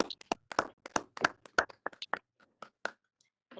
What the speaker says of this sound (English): A round of applause for our Deputy Minister, Me Makgotso Mekisotyo